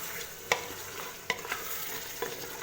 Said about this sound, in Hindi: दही को अच्छी तरह हमने मिक्स कर लेना है और अच्छी तरह हमने इसको भून लेना है